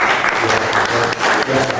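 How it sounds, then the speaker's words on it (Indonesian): Applause at a bank directors' inauguration ceremony, a dense, loud roar of many hands clapping continuously through the brief moment. "Tepuk tangan"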